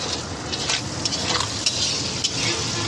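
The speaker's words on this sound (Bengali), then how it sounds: "দেখুন কি সুন্দর মাছটা ভাজা ভাজা হচ্ছে" Small fish with tomato and tender pumpkin shoots frying in oil, a dense, continuous close sizzle with light scraping and stirring clicks scattered through it.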